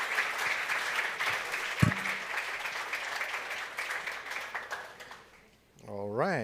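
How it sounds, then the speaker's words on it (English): A conference audience at Neos Conference 2026 claps on the center stage, dense applause running for several seconds before fading out. A voice speaks over the end of it. "Okay, one more applause, please."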